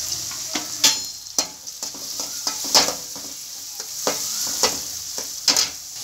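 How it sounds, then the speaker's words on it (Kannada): Onions with a little turmeric frying in oil in a pan, a close, soft sizzle broken by repeated sharp scraping stirs of a spoon against the pan, with no talk. "ಈಗ ಈರುಳ್ಳಿ ಫ್ರೈ ಆಗ್ತಿದೆ"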